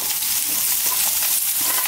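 Vegetables stir-frying in olive oil in a pan over medium heat, a bright, continuous close sizzle with light crackles, no voices.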